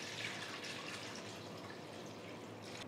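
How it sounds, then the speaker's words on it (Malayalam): Water pours into a cooking pan for semiya payasam, a soft, continuous splashing trickle heard close and at low level for a few seconds. "ഇനി അതേ പാനിലോട്ട് കുറച്ച് വെള്ളം ഒഴിച്ചു കൊടുക്കാം."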